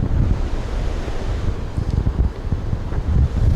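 Ocean surf and wind at Pacific Beach at sunset: a steady low roar of breaking waves with gusty wind buffeting the microphone, loud and continuous, no voices.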